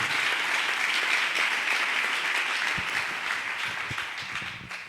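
A church congregation applauds and claps in praise of the Lord, a dense, steady roar of many hands held at full volume throughout, easing slightly toward the end.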